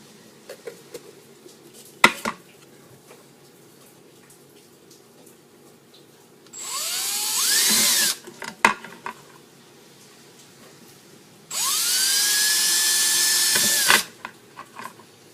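A power drill whines loudly in two bursts, each a couple of seconds long, drilling through an aluminum bottle, with sharp clicks and knocks between them in a quiet room.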